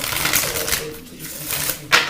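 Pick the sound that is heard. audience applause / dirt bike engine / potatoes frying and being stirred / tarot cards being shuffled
tarot cards being shuffled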